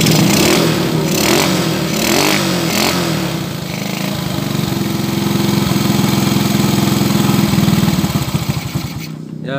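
Close, steady idle of a Supra 100cc motorcycle engine with a carburetor problem, a continuous low hum that wavers slightly before cutting off at the end.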